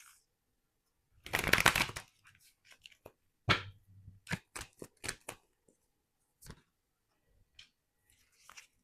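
Tarot cards being drawn from a deck for a card reading: a close burst of riffling and sliding, then a series of soft, separate taps and flicks as single cards are pulled and set down.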